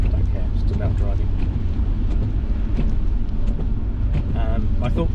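A Jaguar XKR drives through bad weather, its steady low engine and road rumble mixed with wind buffeting. A voice talks over the noise throughout.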